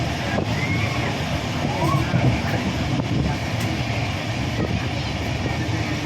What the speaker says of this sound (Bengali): আমি ট্রেনে বসে আছি, তোমাদের দেখাচ্ছি।